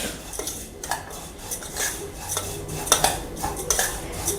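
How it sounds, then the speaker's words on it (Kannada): Utensil scraping and clinking in a pan as food is stirred and lightly fried, with irregular metallic taps and scrapes repeating throughout, close and fairly clear, no voices. "ಸ್ವಲ್ಪ ಲೈಟಾಗಿ ಫ್ರೈ ಮಾಡುವ"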